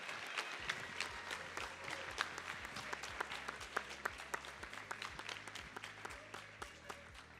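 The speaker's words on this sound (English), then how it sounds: "let's give our GRCC students a big round of applause." Audience applauding GRCC students at a high school decision day event, a dense sustained round of clapping from a large crowd with sharp individual claps standing out over low background sounds throughout.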